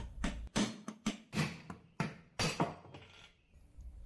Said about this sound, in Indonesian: kita pukul menggunakan palu yang dialas dengan kunci T